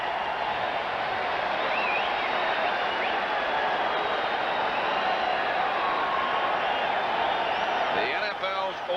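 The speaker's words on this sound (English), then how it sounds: "Listen to this crowd." A large stadium crowd roars after a Giants touchdown in a 1989 NFL game against the Chargers, a sustained broad wash of cheering heard from within the stands, steady and loud throughout.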